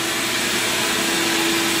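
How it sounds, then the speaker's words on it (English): A vacuum cleaner runs inside a car, giving a loud, steady whooshing roar with a constant motor whine and no talking. "Just need to vacuum out the inside"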